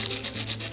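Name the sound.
sanding clay edges with 120 grit sandpaper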